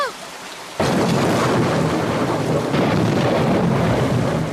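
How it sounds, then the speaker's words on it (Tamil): A cartoon thunderstorm erupts with a sudden loud thunderclap, then heavy rain pours and rumbles steadily in a forest setting. "அதோட இடி மின்னலும் வந்துருச்சு."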